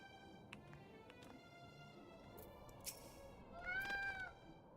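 A cat meows in a video game, a short high call heard alone over a soft background, accompanied by small chime-like effects and a louder sustained tone toward the end.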